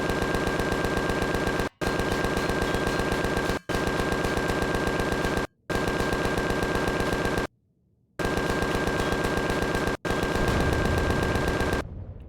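An automated turret in the video game Empyrion Reforged Eden fires long, rapid machine-gun bursts, loud and close, separated by short silent gaps, with a rumbling tail after the final burst.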